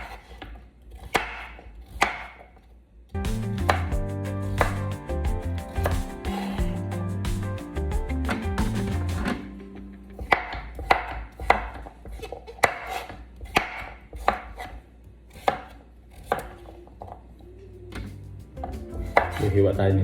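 A knife chops through kalabasa squash on a cutting board, sharp repeated knocks in irregular bursts with music-like tonal layers running underneath, close and fairly loud.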